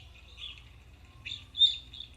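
Birds chirping from an online bird video playing indoors, sparse thin chirps and calls coming and going, fairly faint, with one brighter call standing out, under a low background hum.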